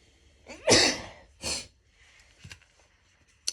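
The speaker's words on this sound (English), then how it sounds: "Pollen always makes me sneeze heavily" A single loud, close sneeze with a sharp intake before it, followed by a smaller sneezy snort and some faint breathy sniffs.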